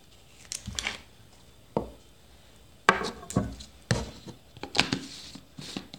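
A knife cuts through half a banana on a board in a series of soft, separate taps and chops, some louder than others, close by in a quiet room.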